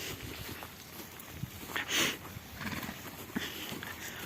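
Horses move about at a distance, with scattered hoof clops, snorts and a brief whinny over a steady outdoor hiss; no one speaks.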